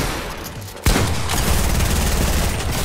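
Shotgun fire in the Fortnite video game: a sharp, loud blast breaks a quieter stretch, followed by dense, sustained rumbling gunfire and in-game noise right up close.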